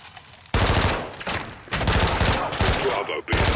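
Heavy machine gun fire from Call of Duty: Modern Warfare 2 on PS5, loud sustained bursts that start abruptly and run in long stretches, broken by brief gaps, with no voices over it.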